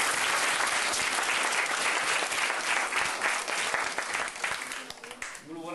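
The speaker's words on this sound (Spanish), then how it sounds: "Un aplauso." Loud, dense applause from an audience at a school book-giving ceremony in Ranchete, sustained clapping that thins out toward the end.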